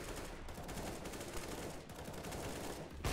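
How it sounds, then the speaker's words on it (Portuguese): Rapid gunfire trades back and forth in a CS:GO match, dense bursts of shots running continuously and fairly loud, with a sharp louder shot near the end. "Uma troca de tiros"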